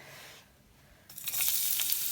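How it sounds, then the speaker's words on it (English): Chopped garlic cloves hit hot oil in a pan and start sautéing, a quiet pause breaking into a bright, steady close-up sizzle with stirring crackles. "the garlic. Saute it for some seconds, like 5 to 10 seconds."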